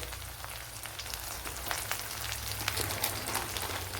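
Cardamom pods fry in hot oil in a pan for Andhra-style rava uppumavu. A continuous crackling sizzle with scattered pops grows slightly louder, heard close and alone with no voices.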